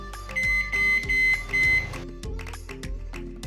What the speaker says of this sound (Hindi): अब हम इसे 2 मिनट के लिए माइक्रोवेव कर लेंगे।